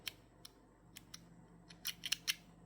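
Small scissors snip a beading thread tail close up, a handful of quick, faint metallic clicks spaced irregularly, the last few bunched together in a quiet room.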